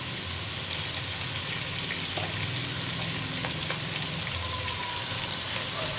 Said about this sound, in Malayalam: ഇനി ഇത് ഹൈ ഫ്ലെയിമിൽ തന്നെ ഇട്ടിട്ട് ഗോൾഡൻ കളർ ആവുന്നത് വരെ സവോള ഒന്ന് ലൈറ്റായിട്ട് ഗോൾഡൻ ബ്രൗൺ ഷെയ്ഡ് ആവുന്നത് വരെ നമ്മളിങ്ങനെ ഇളക്കിക്കൊണ്ടിരിക്കുക